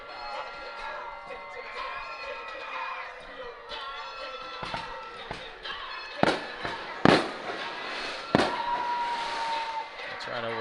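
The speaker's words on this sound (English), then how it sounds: "Must have got a good deal on fireworks this year." Fireworks burst over a high school football game between Paintsville and Fairview, with loud sharp bangs near the end standing out over a steady stadium crowd murmur and a public-address announcer talking.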